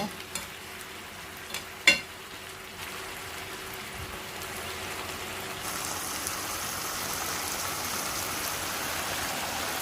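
Chicken wings with mixed vegetables stir-frying in a pan, a steady close sizzle that swells louder partway through, with a few sharp utensil clanks early on and no talk.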